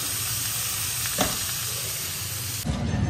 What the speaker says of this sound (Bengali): তাই জন্য রুই মাছ আনিয়েছি, এই ভাজা খেয়ে নেবো। মাছ ভাজা করবো গরম গরম।